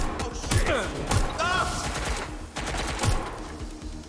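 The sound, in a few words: gunfire from a gun in the video game Watch Dogs: Legion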